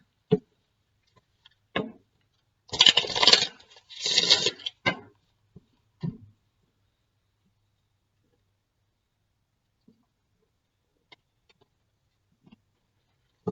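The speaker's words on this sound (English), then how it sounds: "One more shuffle and then I'll cut." A deck of tarot cards is shuffled by hand, two brief riffling bursts, close and crisp, between scattered light taps and clicks of the cards in an otherwise quiet room.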